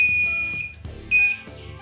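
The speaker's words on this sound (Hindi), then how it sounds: "थोड़ा सा मूवमेंट होगा तो अलार्म बज जाएगा।" The piezo buzzer alarm of an Arduino-based earthquake detector, set off by movement, sounds in shrill, close, loud bursts that start and stop in a choppy, irregular pattern.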